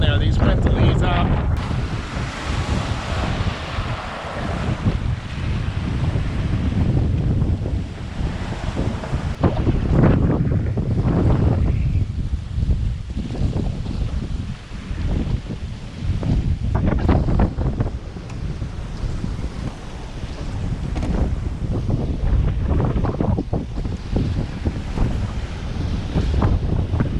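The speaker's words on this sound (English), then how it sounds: "these winds will ease up" Strong wind howls at sea aboard a sailboat heading toward Long Island Sound, with loud, constant buffeting across the microphone over rushing water and waves for the whole stretch.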